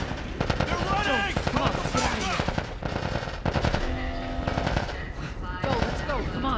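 Loud, continuous automatic gunfire in a video game, dense rattling bursts with shouted voices mixed in and heard throughout.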